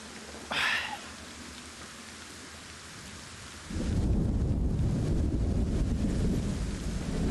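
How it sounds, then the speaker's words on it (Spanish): Rain in the LEGO Fortnite video game, with a sharp thunderclap early on, a quiet steady drizzle, then a sudden switch to loud, dense downpour that continues to the end. "Vamos a esperar a que termine de llover."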